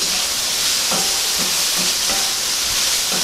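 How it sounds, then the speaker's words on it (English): Okra and spicy peppers sizzle in a hot pan during stir-frying, a continuous close hiss broken by a few soft knocks of stirring. "And then you stir fry them again."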